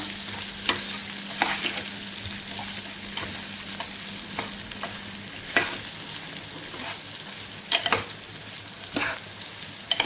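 A spiced fresh-coconut dish with chili powder is stirred in a frying pan, giving a constant soft sizzle with regular scraping strokes and occasional sharper clinks.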